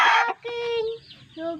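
Backyard chickens and a rooster in the morning, with close, loud clucks and drawn-out crowing calls in short bursts, one animal call following another.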